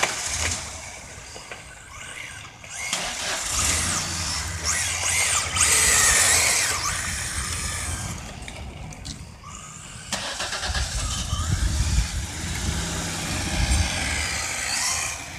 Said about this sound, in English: you can hear a Ford Explorer trying to get up on the driveway.